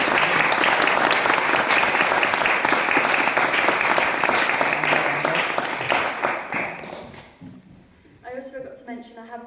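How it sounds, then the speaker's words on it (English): An audience claps warmly after a talk about travels in South America, a full sustained round that tapers off before a voice starts speaking at the very end. "Should we give her a round of applause?"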